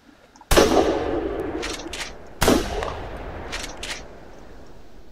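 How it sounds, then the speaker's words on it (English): Two loud, close gunshots while hunting roe deer and rabbits outdoors, about two seconds apart, each with a sharp crack and a long rolling echo fading behind it. "Well, I'm shooting bad."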